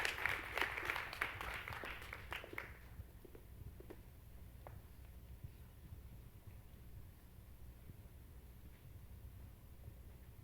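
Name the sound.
applause for award recipients at school assembly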